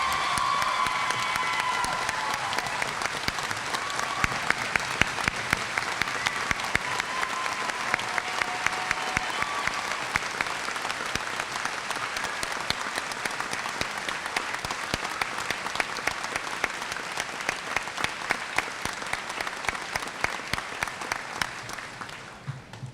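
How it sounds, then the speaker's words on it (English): A large high school graduation crowd gives sustained applause for the armed forces students of the class of 2018, dense steady clapping with some cheering that carries on for over twenty seconds before tapering off. "Please give them your applause."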